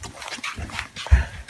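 A dog makes short, soft whimpering and yipping sounds close by, a few brief breathy bursts with small gaps between them and no talking.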